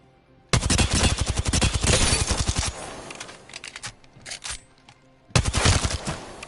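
Volt submachine gun in Apex Legends fires in a long, rapid full-auto burst of close, loud shots, followed by softer scattered game sounds and then another fast burst.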